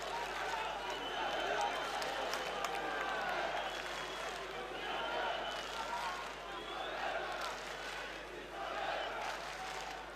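A boxing arena crowd keeps up a steady cheering roar at mid distance, swelling and easing across the whole stretch, with a commentator's voice talking over it.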